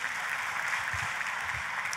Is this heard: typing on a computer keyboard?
no